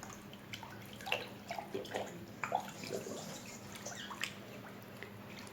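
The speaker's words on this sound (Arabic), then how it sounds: "هرشه كده في الميه وهحاول ادعك بيه الفراخ" Ducks or chickens are rubbed by hand in a bowl of water mixed with grated ginger, making soft, close, intermittent splashes and wet sloshes that stay quiet throughout, with no talking.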